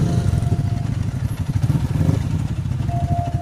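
Close, loud, steady engine rumble from a Yamaha Sniper 155 motorcycle fitted with a full-system muffler and silencer, idling with a pulsing, throbbing exhaust note throughout.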